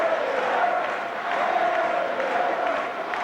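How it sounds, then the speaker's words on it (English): A French crowd at a France versus England rugby match cheers and chants in a dense, sustained roar, heard at a distance. "So the French crowd in decent voice."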